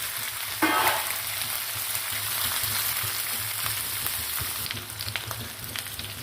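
Onions fry in a pan for a cabbage and moong dal curry, giving a steady, close sizzle that runs throughout with a brief burst of crackle near the start.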